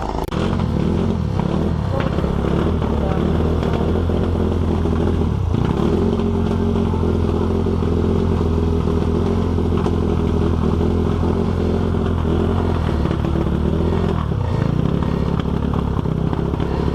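Supermoto motorcycles at the start of a race, a loud continuous engine drone with revving swells and dips, close by, with faint voices mixed in.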